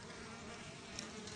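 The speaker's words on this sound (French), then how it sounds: "Il y a une abeille qui vient de se faire piéger." A honeybee trapped under a slab of candy feed at an apiary hive buzzes in a steady, faint drone, close up and continuous, with no talking.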